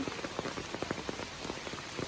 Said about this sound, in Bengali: আজকে সকাল সকাল অনেক বৃষ্টি শুরু হয়েছে